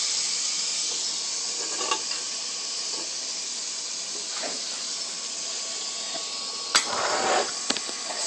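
Ground meat sizzling in a pan for spaghetti, a steady bright hiss with occasional pops and a few clanks of a utensil, close and even throughout.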